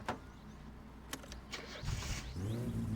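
An engine cranks and starts in the car-building game My Summer Car, a few starter clicks and turns before it catches and settles into a low idle.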